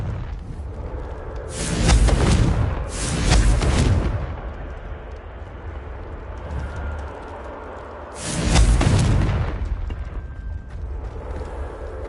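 Confringo blasting-spell explosions in Hogwarts Legacy: three loud, broadband booming blasts, two close together early and one more after a pause, each with a rumbling tail over a low background hum.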